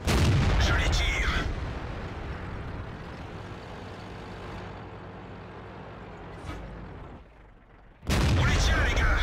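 Tank cannon fire in World of Tanks from the FCM 50 t: a loud booming blast at the start, then a long rumbling tail of engine and battle noise, and another heavy burst near the end, with speech in places.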